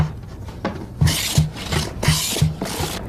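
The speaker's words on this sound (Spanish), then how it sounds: "Se cepillan los dos lados de la madera, la parte de adentro y la parte de afuera." Hand plane shaving both faces of cedar boards for a cajón, close, loud rasping strokes in a quick regular rhythm, about five sweeps with light knocks between them.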